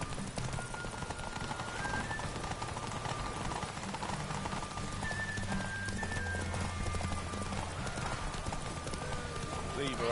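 Roach, Geralt's horse in The Witcher 3, clip-clops along steadily with repeated hoof beats under game music and ambience, while a voice speaks over it.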